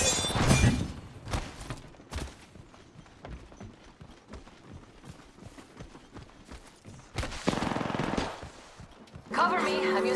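Gunfire in the battle game Apex Legends, with bursts of rapid shots and sharp cracks coming in clusters at the start and end, sparser pops between, loud and close, with speech-like chatter in places.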